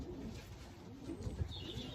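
Soft, low cooing of a racing pigeon at a loft in a quiet outdoor setting, a few muffled coos rising briefly over faint background noise.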